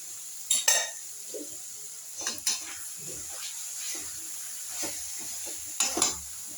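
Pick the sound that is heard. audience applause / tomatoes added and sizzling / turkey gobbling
tomatoes added and sizzling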